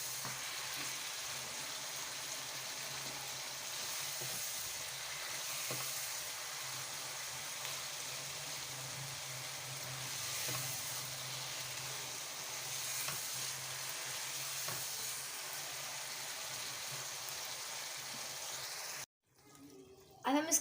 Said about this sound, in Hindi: अब हम इसको 1-2 मिनट भूनेंगे और फिर उसके बाद हम इसको सर्व करेंगे।